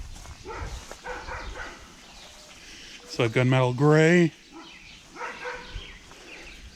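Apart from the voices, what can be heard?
neighbor's dog barking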